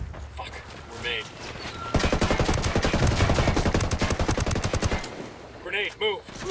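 Rapid automatic gunfire from the video game Ghost Recon Wildlands, a dense sustained burst of shots lasting about three seconds, loud and close, with voices talking before and after.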